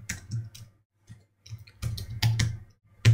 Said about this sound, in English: Get a little fast on the keyboard there.